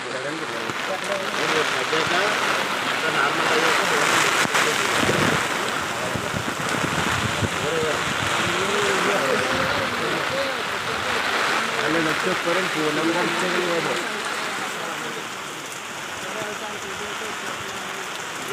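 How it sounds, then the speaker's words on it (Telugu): Heavy rain pours during a storm, a dense steady hiss of rain on surfaces with gusts of wind, while people talk over it. "వర్షం పెరిగిపోయింది"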